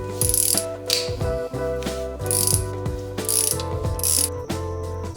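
A ratchet wrench loosens the bolts of an oil filter housing on a DSM, loud close clicking bursts in quick repeated strokes with short pauses between pulls.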